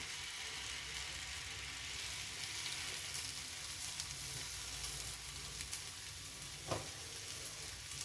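Hand-made rice roti hisses and sizzles on a hot pan, a steady broad frying crackle with a few sharper pops, no voices.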